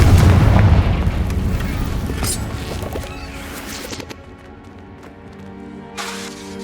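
A Confringo fire spell explodes in Hogwarts Legacy, a loud booming blast with a heavy rumbling low end that decays over a few seconds into a fading crackle, followed by a smaller sharp hit near the end.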